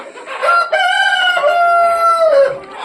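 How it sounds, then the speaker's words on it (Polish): A farmyard rooster crows one long, loud call lasting nearly three seconds, its pitch rising and then slowly falling, heard up close with no other sounds around it. "czyli zagrodowy kogucik"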